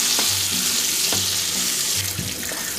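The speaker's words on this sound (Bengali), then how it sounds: "এবার আলু দেওয়ার পর হাফ চামচের মতন নুন আর হাফ চামচের মতন হলুদ দিয়ে আমি আলুটাকে খুব ভালো করে ভেজে নেব।" Potatoes fry in a pan with salt and turmeric, giving a dense, loud sizzle with a few soft spoon knocks, close and continuous, no voices.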